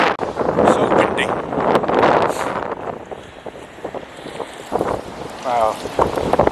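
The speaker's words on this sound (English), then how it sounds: "So windy." Strong wind buffets the microphone in loud gusts on a beach at Half Moon Bay, with a voice briefly speaking beneath it.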